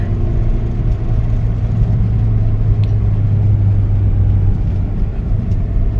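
A Toyota Matrix XRS with a 2ZZ engine labours up a high mountain road in fourth gear, a steady, close, low engine drone with road rumble and no talking.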